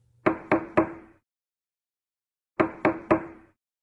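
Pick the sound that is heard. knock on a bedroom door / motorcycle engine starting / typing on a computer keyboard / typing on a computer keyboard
knock on a bedroom door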